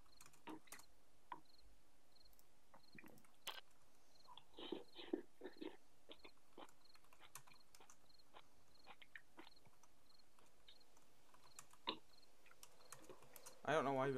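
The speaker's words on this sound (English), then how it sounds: "I don't know why, but I'm typing in game chats." Computer keyboard keys clack in short bursts while typing in game chat during a 7 Days To Die stream, with quiet gaps between, a soft voice murmuring briefly, and a louder rustle at the very end.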